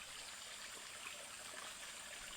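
A creek flows in a steady, hissing rush, continuous and even throughout with no voices.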